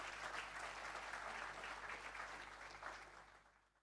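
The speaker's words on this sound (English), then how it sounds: "Could you please give them a round of applause?" Audience applause at a regional top awards ceremony in St. Lucia: a sustained wash of clapping from a crowd that holds steady, then gradually thins and fades toward the end.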